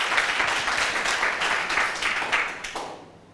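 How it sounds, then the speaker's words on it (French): An audience at a youth holiday event in Koumassi breaks into a dense burst of applause that holds for a few seconds, then thins out and fades to quiet. "Ça peut s'applaudir."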